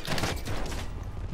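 Gunfire from Call of Duty Warzone, a dense rapid burst of shots filling the short moment at close range with no talk over it.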